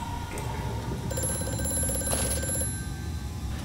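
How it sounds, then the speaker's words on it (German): Telephone ringing in the video game Amnesia: A Machine for Pigs, a loud electric bell trilling in a rapid, steady burst for over a second, set against a dark rumbling ambient drone. "Das Telefon ist laut."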